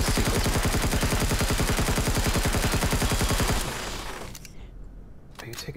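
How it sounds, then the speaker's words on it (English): Sustained automatic gunfire aimed at a ship in the Empyrion survival game, a loud, evenly pulsing rattle that stops suddenly partway through, leaving a low rumble and a few faint clicks. "Are you taking shots at my ship?"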